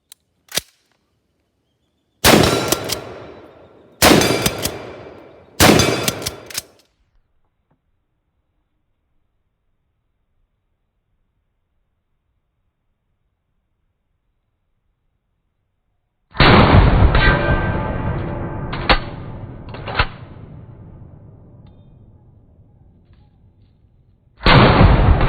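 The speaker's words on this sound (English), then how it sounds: "We're just gonna get into a bit of steel plate shooting." A Wedgetail MPR308 rifle fires at steel plate targets outdoors: loud, sharp shots with long rolling echoes, several in quick succession, then a long pause before more reports ring out.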